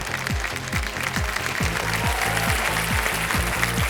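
A studio audience on the KBC quiz show breaks into loud, sustained applause, a dense wash of clapping accompanied by rhythmic, sweeping musical stings.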